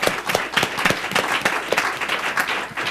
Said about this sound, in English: let's give it up for the crowd again